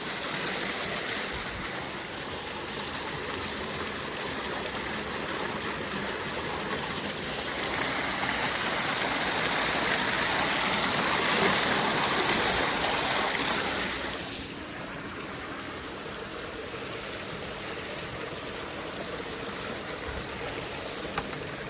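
Steady rushing water flows into plant beds during irrigation, a continuous broadband wash that swells louder in the middle and then settles to a slightly softer, even flow, with no voices.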